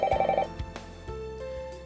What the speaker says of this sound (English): I hear the ringing of the phone.